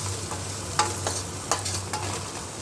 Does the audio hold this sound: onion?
yes